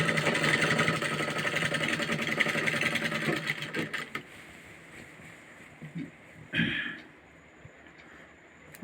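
A sewing machine stitches a six-panel petticoat with a steady, close motor whir for about four seconds, then goes quiet apart from faint handling sounds.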